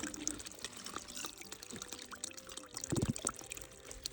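Cold spring water trickles and drips into a small puddle at Caribou Spring in Baxter State Park, a soft, close, irregular patter with a brief louder splash partway through.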